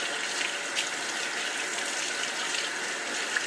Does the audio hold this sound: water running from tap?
yes